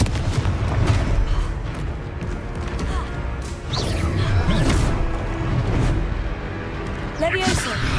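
The Confringo explosive spell from Hogwarts Legacy goes off in repeated loud, booming blasts with crashing debris. Several heavy bursts land close together, mixed with game effects and a voice calling out.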